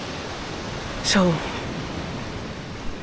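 Mountain river near Pundaquit, Zambales, flowing with a steady broad rush of water, loud and continuous, as someone speaks a single brief word over it.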